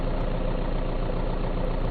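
A mail truck engine idles in the game VEIN, a dense, steady low rumble that stays loud and close throughout, with no voices.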